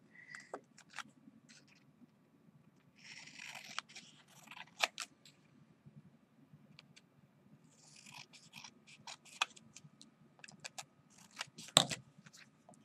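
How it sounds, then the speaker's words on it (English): Scissors snip quickly through paper to cut a card mat, a series of sharp close crisp cuts in short bursts over quiet background hiss. "I'm going to take my scissors and just really quickly go all the way down"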